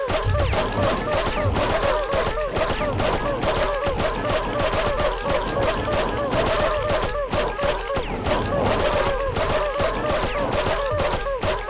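Dense, rapid gunfire from the video game Abe's Oddysee rattles on without pause, loud and close, in bursts that run together like a continuous barrage.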